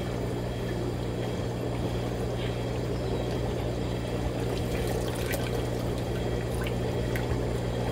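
Liquid drains steadily from a compost tea bag, a continuous close pouring and trickling wash with a low steady hum underneath and no talk.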